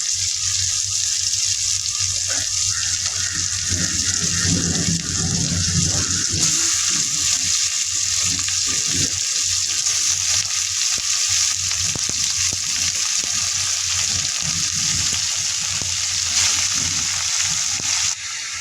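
Pieces of skate fish sizzle steadily in a pan of cooked mashed tomatoes, a continuous close frying hiss with occasional stirring and bubbling underneath.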